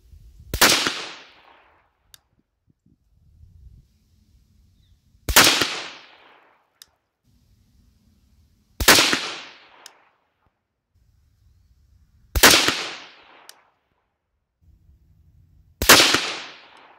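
A 6.5 Grendel rifle loaded with 130gr Nosler RDF bullets fires at a 100-yard target outdoors: five loud, sharp shots spaced evenly about three and a half seconds apart, each with a short decaying tail.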